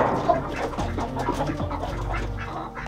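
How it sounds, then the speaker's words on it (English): Several chickens cluck and murmur close by in a busy, overlapping chatter, with shuffling movement underneath. "we've got all the chickens in here ready to go into their new spot"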